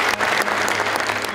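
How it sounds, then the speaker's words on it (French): An audience at a French-language religious community broadcast breaks into applause for a medal recipient, a dense, even wash of many hands clapping close by with no talking over it. "Veuillez accueillir et applaudir avec moi Madame Anne Quirion."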